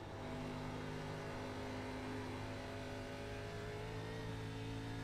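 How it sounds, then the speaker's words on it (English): Race car engine in an ARCA Series sim racing game at Indianapolis, revving steadily with a loud, continuous drone as the throttle works while the back end slides loose. "You hear that throttle up there, that's the back end getting loose."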